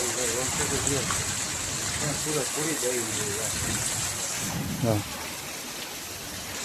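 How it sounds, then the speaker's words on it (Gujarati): Heavy rain pours steadily on a village courtyard as strong wind drives it, a broad constant wash throughout, with people talking over it. "આમ એટલો વરસાદ છે ને કે સામે પવન એટલો આવે"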